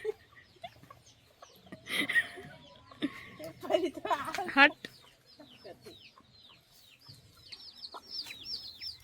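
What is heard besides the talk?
chickens clucking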